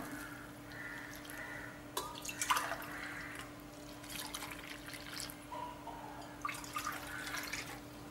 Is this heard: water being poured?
yes